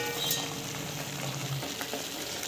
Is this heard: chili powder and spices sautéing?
yes